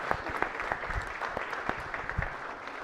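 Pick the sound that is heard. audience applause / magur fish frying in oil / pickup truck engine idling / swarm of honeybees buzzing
audience applause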